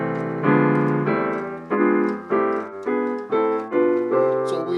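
Piano plays the Barry Harris sixth diminished scale as harmonized chords, melody on top and bass notes an octave below, about seven struck chords in an even stepwise rhythm, each ringing and decaying, close and clear.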